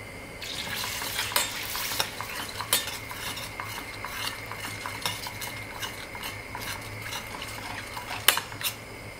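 A full tablespoon of butter and two to three tablespoons of oil heating in a pan, with a soft steady sizzle beneath scattered clinks and scrapes of a utensil against the pan.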